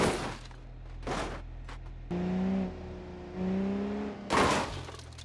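Simulated crash between a BMW and a Tesla in the BeamNG.drive game: loud bursts of crunching impact noise at the start and end, with a steady engine hum and rising tonal whine between them, no talk.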